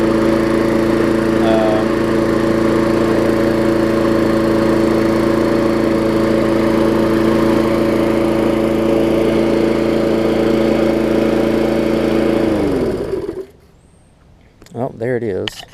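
An older MTD walk-behind lawn mower engine runs loud and steady at full throttle, a continuous droning hum that cuts off abruptly near the end, leaving a short quiet stretch with faint sounds after it.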